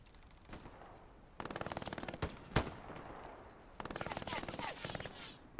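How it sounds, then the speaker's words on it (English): Bursts of MG42 machine gun fire in a Battle of the Bulge video game at Elsenborn Ridge, two long rapid rattling strings separated by scattered single shots and a sharp nearby crack, moderately distant. "But the MG42 rounds keep coming on in"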